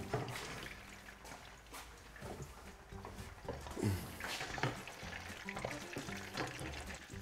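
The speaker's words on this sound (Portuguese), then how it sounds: "depois de estar o bacalhau salteadinho, salteamos a cebola" Onion sautés in a pan after salt cod, giving a quiet, steady sizzle with occasional stirring scrapes and clinks, close but faint, with no talking.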